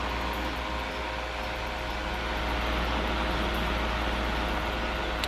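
A motor powered by a modified sine wave inverter gives a loud, steady electrical hum with a constant buzzing, noisy texture throughout.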